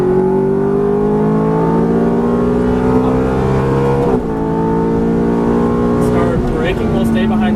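A Ferrari F430 accelerates on a race track, its engine a loud, rising tonal howl that climbs through the revs, dips briefly at a gear change, then climbs again, with someone talking over it.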